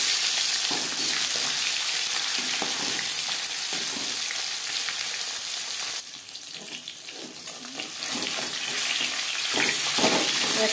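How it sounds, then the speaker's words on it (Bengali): Marinated tilapia fish frying in hot refined oil, giving a loud, continuous sizzle that briefly dips and then picks up again, with some watery splashing and no speech. "এবার দিয়ে দেব ম্যারিনেট করে রাখা মাছ।"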